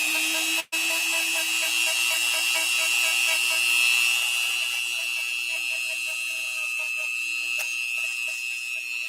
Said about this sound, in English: after using the Dremel on it, because the Dremel is going to break apart the crud and the dirt